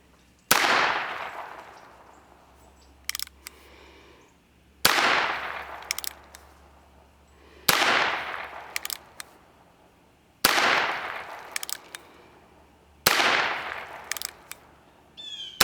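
Test rounds fired from an FIE E15 revolver, five sharp, loud shots spaced a few seconds apart, each ringing off with a decaying echo, with small clicks between them and no talking.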